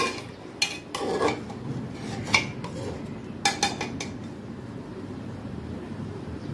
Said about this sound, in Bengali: জল দেওয়ার পরে হালকা করে আমরা কিন্তু নাড়াচাড়া করে নেব